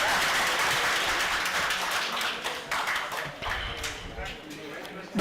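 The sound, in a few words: audience applause at a seminar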